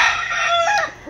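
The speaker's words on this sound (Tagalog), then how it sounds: "Ayaw niya lang ng maingay na manok." A rooster crows loudly and close by in a residential area of Tacloban, a single sustained call with a rising and falling pitch that fills the whole moment without any talk.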